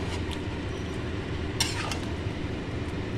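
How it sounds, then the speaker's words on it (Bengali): Meat browning with spices in a pan: a soft scraping of the spoon and a low, continuous sizzle, heard close, with a few sharper clinks against the pan near the middle. "এবারে একটু উপর নিচ করে দিতে হবে মাংসটা, কারণ মশলাটা যাতে ভালোভাবে কষে"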